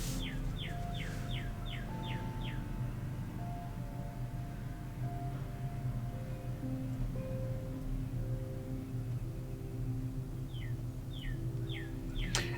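A bird sings in a tree outside a window, with two quick bursts of high repeated chirps near the start and the end, faint over a low indoor hum.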